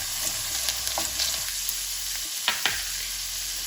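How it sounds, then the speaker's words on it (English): Paneer cubes sauté in a pan for navratan korma, an even close sizzle broken by several spatula clicks and scrapes, two sharper knocks standing out near the end. "now I'm going to add some paneer and let the paneer also saute for a couple of minutes"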